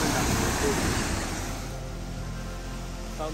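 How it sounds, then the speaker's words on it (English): Loud, broadband rushing water fills the clip, a small mountain waterfall in Snowdonia splashing nearby and continuous, easing slightly in intensity partway through. "Found this secret little waterfall bit."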